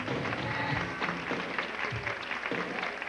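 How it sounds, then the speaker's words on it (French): Audience at a 1993 boutique fashion show applauds a saxophonist, a steady wash of clapping hands that stays fairly loud and continuous for the whole stretch, with a few faint voices mixed in. "Une bonne main d'applaudissements également, mesdames et messieurs, à Claude Charret, le saxophoniste."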